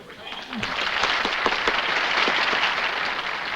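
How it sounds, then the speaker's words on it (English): Recorded applause played back from a record, a steady wash of crowd clapping that swells after the first half second and holds at an even, moderately loud level throughout, with faint voices mixed underneath. "I can play that applause record all day."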